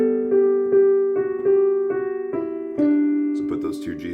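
A piano plays the melody as a short run of clear, evenly spaced notes that ring and fade before the next, moving toward a brighter chord at the end.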